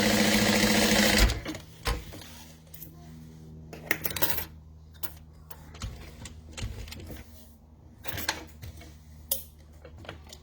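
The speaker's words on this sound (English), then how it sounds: "here's also where you top stitch across the bottom of your zippered pocket" Sewing machine topstitching across the bottom of a zippered pocket on a wallet, with gray thread: short bursts of stitching separated by pauses, clicks and handling noises, close by and moderately loud.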